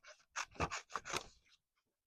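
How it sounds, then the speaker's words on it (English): Scissors fussy cutting around a stamped paper image for a wedding memory journal, giving several short crisp snips in quick succession, close and fairly quiet, then stopping. "I'm just gonna do like a little bit of a fussy cut"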